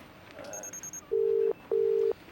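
A landline home phone: a brief burst of beeping tones, then two long steady electronic rings, each about half a second, close and clear with no voices.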